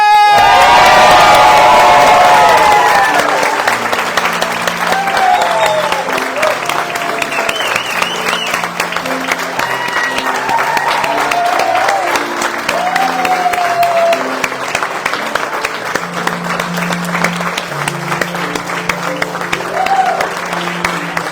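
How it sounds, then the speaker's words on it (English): Guests at a Scottish-Greek wedding at Loch Lomond cheer and applaud the newlyweds. Loud, sustained clapping carries whoops, high shouts and cheers all the way through. "please join me in the biggest Scottish Greek cheer as I give you Mr. and Mrs. Chambers!"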